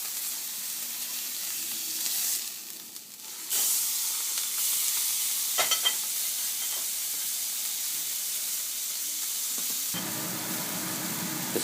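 Steak frying in a pan with a continuous bright sizzle that swells after a brief dip, includes a few faint clinks, and drops to a duller hiss near the end, heard up close without talk.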